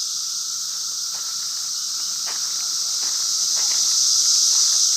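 A chorus of cicadas outdoors near water, a loud continuous high-pitched buzzing drone that swells gradually stronger, with faint scattered background sounds beneath it.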